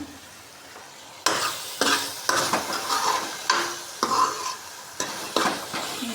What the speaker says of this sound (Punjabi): ਮਸਾਲਾ ਆਪਣਾ ਪ੍ਰੋਪਰ ਭੁੱਜ ਰਿਹਾ ਹਜੇ ਵੀ ਆਪਾਂ ਮਸਾਲੇ ਨੂੰ ਹੋਰ ਰਾੜਾਂਗੇ